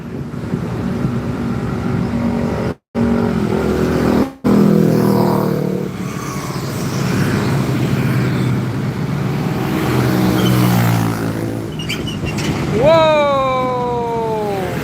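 A tanker truck passes loudly on a road nearby with a roaring engine and rumble, buffeted by wind on the microphone, and a rising whine of tones sounds near the end.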